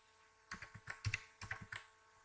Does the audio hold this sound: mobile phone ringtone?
no